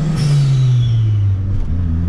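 A turbocharged Opel Kadett GL with a forged 300 hp engine, FT450 management and 0.8 bar boost lets off throttle: the engine note falls as a brief hissing release from the blow-off valve vents, loud and close.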